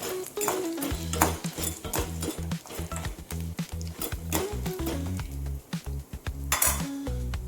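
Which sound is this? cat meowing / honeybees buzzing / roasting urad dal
roasting urad dal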